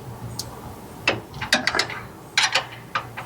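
Steady ratchet-wrench clicking from hand-tightening the nut on a steering stabilizer of a P32 Workhorse motorhome chassis, with short bursts of close metallic ratcheting separated by brief pauses.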